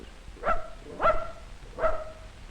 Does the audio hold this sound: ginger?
no